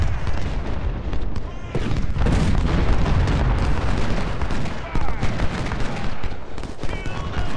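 Cannon and gunfire roar in the video game Ultimate General: Civil War during the Battle of Chickamauga. Dense, loud blasts and rumbling booms overlap continuously with no pause.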